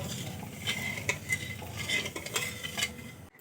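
Sugar syrup for a sweet being stirred in a pan, with soft scraping and light metallic clinks of a spoon against the pan at an uneven pace over a faint low bubbling, close and quiet.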